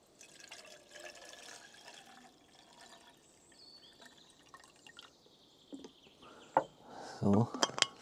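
Water trickles and splashes into a container, ending in a louder burst of pouring, with faint background noise throughout.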